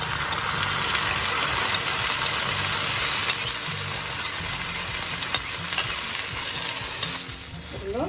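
Canned sardines in tomato sauce with chopped red and green chilli sizzle steadily in a pan, a close, continuous frying hiss with faint clicks and stirring, no voices.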